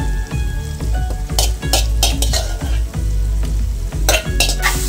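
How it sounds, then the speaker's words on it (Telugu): Boiled prawns stirred into a frying curry, with steady loud sizzling and repeated scraping spoon strokes against the pan at an uneven rhythm, close up and with no talking. "ఇప్పుడైతే ఉడికించుకున్న రొయ్యల్ని వేస్తున్నాము."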